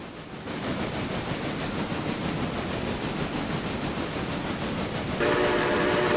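A train running in the railway simulation game Railroader, a loud continuous rumbling roar of wheels and engine that holds steady throughout and shifts in tone near the end.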